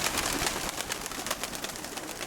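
Pigeons tossed into the air flap away in a quick flurry of wingbeats on an easterly breeze, the fluttering bursts fairly faint and close.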